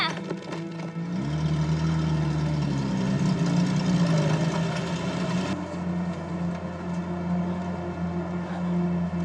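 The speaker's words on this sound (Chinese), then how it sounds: "这是摩托车呀" A motorcycle engine runs steadily and fairly close in a wartime setting, a low continuous drone with a brief shift in pitch near the start, with no talk over it.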